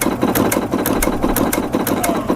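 A sewing machine running a diagonal sawtooth stitch with no fabric under the needle, making a fast, even mechanical clatter that repeats rapidly and sits close and loud.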